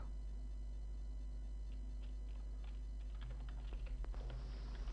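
Someone typing on a computer keyboard: faint, scattered key clicks in short bursts over a steady low electrical hum, with no talking.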